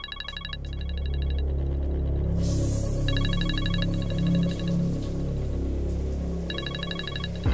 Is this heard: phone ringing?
yes